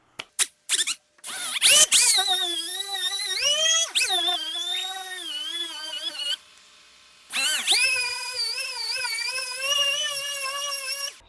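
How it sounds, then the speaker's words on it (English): A dual action sander with 2000 grit sandpaper works on car paint, its motor whining up in steady bursts with rising and falling pitch and a short pause in between, loud and close. "we're just going to take our 2000 grit sandpaper on the DA, and we're going to go ahead and sand"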